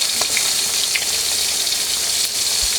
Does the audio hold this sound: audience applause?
no